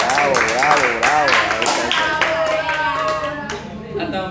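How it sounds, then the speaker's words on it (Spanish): A small group clapping hands in brisk bursts, close by, while voices cheer and speak loudly over the claps throughout. "Sí, démosle un aplauso a Doña Hilda, que se acordó de nosotros."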